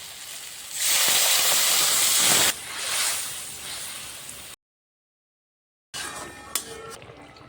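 Water poured into a hot pan of frying green chillies bursts into a loud, hissing sizzle that eases off after a couple of seconds, then crackles on more quietly with a short break before further sizzling.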